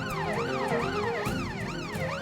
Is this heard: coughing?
no